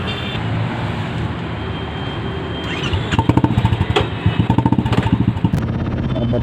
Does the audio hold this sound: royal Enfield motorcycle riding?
yes